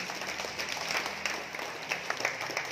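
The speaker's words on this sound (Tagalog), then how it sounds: "Palakpakan si Jesus." A church congregation applauds for Jesus after a Gospel reading, a soft, continuous patter of many hands clapping at a moderate distance, steady throughout.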